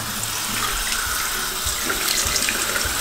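Bathroom tap running steadily into a sink while someone rinses makeup off their face, a close, continuous splashing hiss with no talking.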